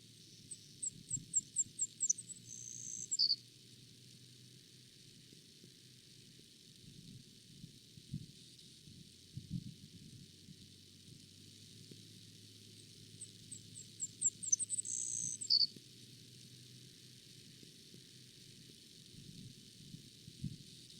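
Savannah sparrow song over open grassland: two faint, thin buzzy phrases with quick stuttering opening notes, one near the start and another about twelve seconds later, set against quiet low background hum.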